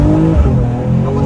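A Mercedes E53 AMG running Stage 1 tuning loses traction at launch, its rear wheels spinning with a loud, close engine drone and tire noise throughout.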